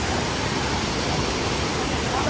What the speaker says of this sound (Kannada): ಜಲಪಾತ ನೀರು ಹರಿತಾ ಇದೆ ನೋಡಿ ಫ್ರೆಂಡ್ಸ್